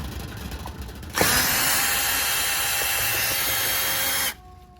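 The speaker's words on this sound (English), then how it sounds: "Grab my driver. I'm going to unscrew the dooby here." A handheld power driver spins out a screw from a screen door: a steady, loud whirring run of about three seconds that starts and stops abruptly, with no talking.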